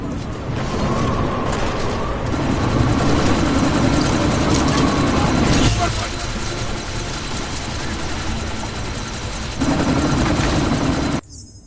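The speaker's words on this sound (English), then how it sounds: "you need to disable that chopper" A helicopter in the video game Deus Ex: Mankind Divided, set during a sandstorm, gives off a loud, steady rotor roar with a low rumble. The roar swells and dips for several seconds, then cuts off abruptly.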